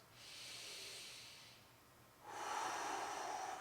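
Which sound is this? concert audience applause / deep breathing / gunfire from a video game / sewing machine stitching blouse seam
deep breathing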